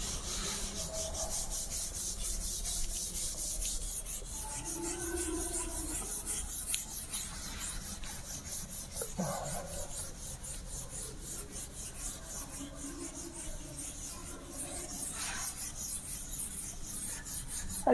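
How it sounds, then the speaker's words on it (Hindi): A duster rubs across a classroom board during a Class 11 physics lesson, making a continuous, close, scratchy rasp that runs steadily throughout. "मैं इधर का रब कर रहा हूँ"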